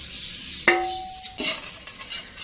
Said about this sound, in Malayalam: നമുക്കിനി ഈ സ്പൈസസ് ഒക്കെ ഇട്ടൊന്ന് ചൂടാക്കിയെടുക്കാം.